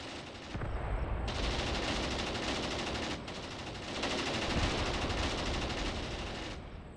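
Sustained automatic machine gun fire in the Mius Front war game, dense overlapping bursts rattling loudly and continuously with brief dips in intensity.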